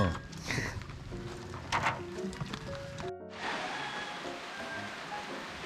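Rain begins falling outdoors in the Philippines, a soft steady patter of drops with some rustling, faint and fairly close, with a brief break partway through before the hiss continues evenly.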